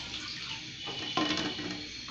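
Oil goes into a pan while cooking dal with cauliflower and flat beans, giving a steady close pouring and sizzling hiss that runs throughout, brightening slightly midway.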